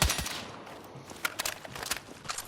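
TR7 rifle fire in Battlefield 6, heard as a sharp opening report followed by a string of spaced single shots, moderately loud and crisp, with no voice over it.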